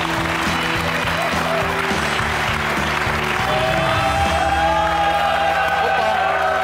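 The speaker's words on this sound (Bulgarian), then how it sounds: "Аплодисменти!" Studio audience on a Bulgarian talk show applauds and cheers for a rapper, a steady wash of clapping with occasional whoops beneath a sustained musical tone, loud and continuous throughout.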